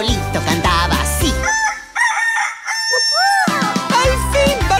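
A voice imitates a rooster's crow in a children's song: a loud, rising cock-a-doodle-doo call with music before and after it.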